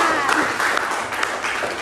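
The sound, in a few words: class applause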